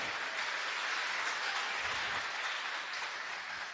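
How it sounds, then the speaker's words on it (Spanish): A congregation applauds during a Spanish-language church service: dense, continuous clapping from a crowd, steady and fairly loud throughout with no break. "Dele fuerte el aplauso"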